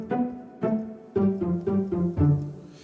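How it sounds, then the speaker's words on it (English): Traditional TV comedy-track sound effects: a run of short, bouncy plucked or pizzicato-like hits in quick succession, each starting sharply and fading fast, moderately loud and close with no talk. "traditionally in TV, comedy tracks have sounds that sound like this"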